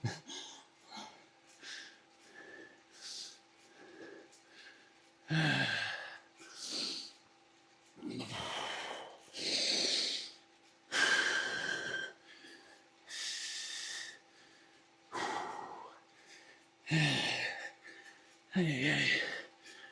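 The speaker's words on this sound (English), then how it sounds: "You hear my lungs fill with air?" A cyclist riding hard on an indoor trainer during a Tour de Zwift stage breathes heavily and close to the microphone, with loud, rhythmic gasps and snorting exhales in separate bursts and short quiet gaps between them.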